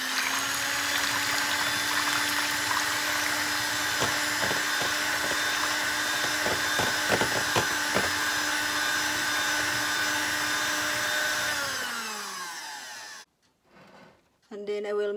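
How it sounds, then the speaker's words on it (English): An electric mixer whirs loudly and continuously while beating pineapple chiffon cake batter, its motor tone steady and close with rattling bursts midway, then it winds down and stops near the end. "I will mix it here in a mixer."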